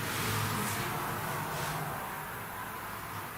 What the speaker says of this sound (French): Parasite de voiture.